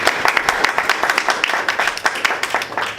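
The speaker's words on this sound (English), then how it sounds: "Making a round of applause" An audience at a Toastmasters-style speech evaluation session claps in a round of applause, a fairly loud burst of many hands with individual claps audible, continuing steadily for the whole stretch.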